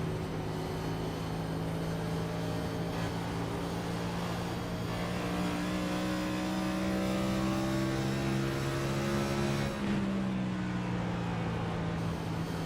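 Onboard a troubled number 88 race car at Rockingham in the Integrity Octane Series, the engine drones loud and steady, rising in pitch as it revs, with a brief lift near the end and no voices.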